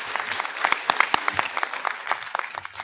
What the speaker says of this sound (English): I think they deserve your applause.